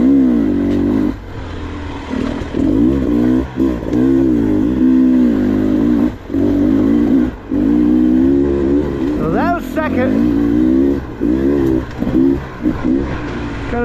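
A 2023 Beta 300RR Race Edition dirt bike engine lugs at low revs up tight switchbacks, a close, throaty, uneven rumble that surges and dips with the throttle.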